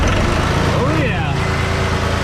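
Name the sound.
John Deere tractor engine starting and idling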